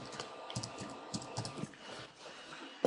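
Computer keyboard typing on a PC, quiet, a steady run of light clicking keystrokes close by against faint room noise.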